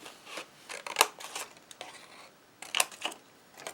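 Scissors snip through a strip of paper cut from a punch-hole sheet, giving several short, crisp cuts in uneven bursts, close and moderately loud, with no talking.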